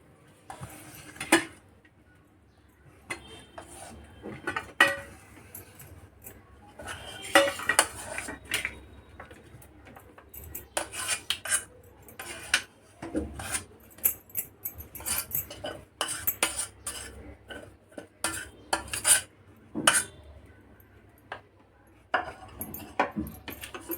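Metal utensils clink and scrape against a plate as thick rava barfi mixture is scooped out, giving irregular bursts of close clatter with quiet gaps in between.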